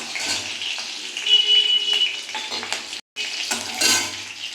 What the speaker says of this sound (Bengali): মশলা রয়েছে ভালো করে নেড়ে দিচ্ছে